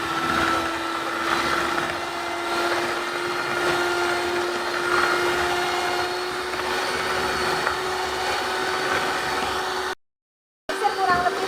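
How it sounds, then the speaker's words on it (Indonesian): An electric mixer beats eggs with SP emulsifier for marble cake batter, giving a steady, close, high whining motor hum that runs unbroken for about ten seconds before it briefly cuts out. "kemudian kita harus mixer ya"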